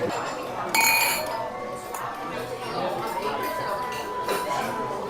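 Glasses clinking together in a toast over a pizza meal, one bright chime near the start and a fainter clink later, amid quiet table chatter.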